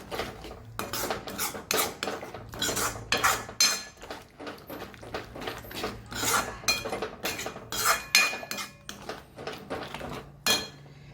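A spoon stirs roasted masala and a curd mixture in a cooking pot over low heat, scraping and clinking against the metal in repeated rhythmic strokes, close and fairly loud.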